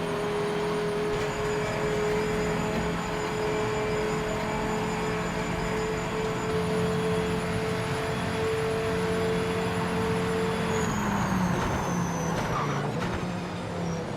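A Dodge Viper's engine in the racing game Project Motor Racing drones steadily and loudly throughout, with a constant tonal whine that shifts pitch partway through and again near the end.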